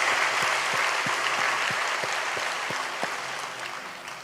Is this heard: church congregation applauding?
yes